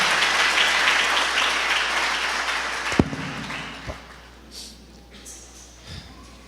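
A church congregation applauds loudly during a worship service, a thick wash of clapping that dies away about halfway through, leaving a few sharp knocks and faint murmurs in a quieter room.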